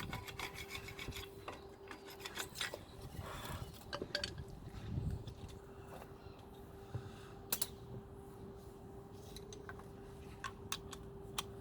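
A screwdriver scraping the contact points of brake pads on a Seat Leon Cupra R with Brembo brakes, making quiet, irregular rasping and rubbing strokes with a few sharper scratches, close up and faint.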